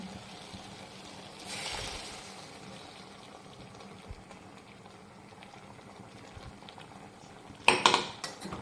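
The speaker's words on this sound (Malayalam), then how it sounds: "ഇളക്കി മിക്സ് ചെയ്തെടുക്കാം." A pot of curry with chili powder and ground coconut paste being stirred, giving soft clinks of a spoon against metal over a quiet simmer, with a brief louder scrape of utensil on pot near the end.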